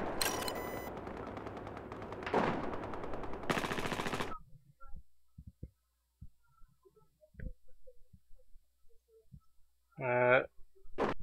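Battlefield 4 gunfire in a close-quarters Operation Locker match, with loud sustained automatic bursts up front that give way to sparse quieter shots and clicks, then a short sharp burst near the end.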